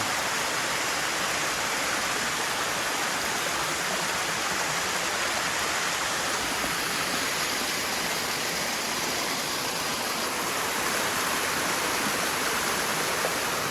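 Steady, full roar of a waterfall beside the Appalachian Trail in New Hampshire, a dense unbroken rush of falling water filling the whole clip at constant loudness with no voices.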